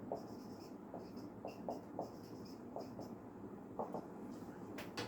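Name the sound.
pen writing numbers on paper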